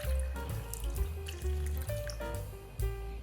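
Tap water running and splashing as about 200 ml is poured into a pot already holding cut sweet potato and onion for miso soup, a steady fill with small gurgling shifts, close and alone.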